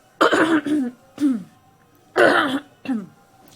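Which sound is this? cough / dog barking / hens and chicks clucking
cough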